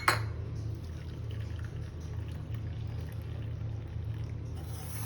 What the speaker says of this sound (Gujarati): વધારાનું એક્સ્ટ્રા પાણી છે આપણે કાઢી લેવાનું છે.